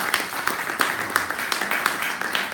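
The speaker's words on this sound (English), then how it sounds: "Please, let's give another round of applause to Sandy." An audience gives a round of applause for Sandy at an academic conference, a moderate patter of individual claps at a fairly quiet level with no one speaking.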